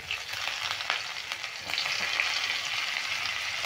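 Chopped ginger and green chili sizzle in hot ghee over medium heat for sabudana pulao, a close, crackling fry broken by light scrapes of stirring, with no voices.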